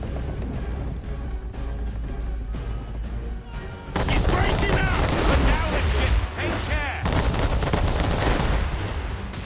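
Cannon bombardment in Assassin's Creed III breaks out halfway through as a loud, dense barrage of booms and cracks over a steady background roar, with someone talking throughout.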